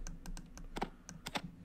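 Computer keyboard and mouse clicking during a session of Fallout, a quick uneven run of sharp clicks and key taps, fairly close and moderately loud, with no talking.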